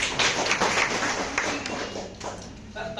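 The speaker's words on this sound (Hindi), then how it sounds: "जोरदार ताली होना चाहिए।" Audience clapping at a business seminar in Dumka, a brief burst of hands that mixes with voices and fades within three seconds, partly masked by talk from the room.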